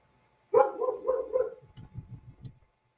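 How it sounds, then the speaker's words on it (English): A dog barks in a quick burst of several loud, close yelps over about a second, followed by softer, lower huffs trailing off. "barking like a crazy dog"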